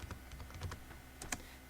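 Someone types on a computer keyboard while entering MySQL commands, producing a quick, faint run of close key clicks with a few sharper taps and no talking.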